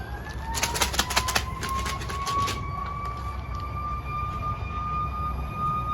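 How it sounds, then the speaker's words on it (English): An ambulance siren wails steadily across the whole clip, its tone sliding slightly as it passes, with a few sharp bird-like chirps early on against outdoor background noise. "an ambulance has to pass by whenever I'm making a video"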